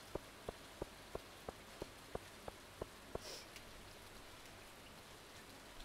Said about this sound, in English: It's gonna get all soggy in the rain.